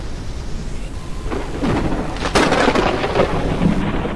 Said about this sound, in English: Caution, a storm is coming.